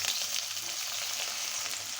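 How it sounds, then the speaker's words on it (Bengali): Onions frying in oil until crispy give a steady, close hissing sizzle with light crackle throughout, heard on its own without talk. "আমি পেঁয়াজ বেরেস্তা করে নিব"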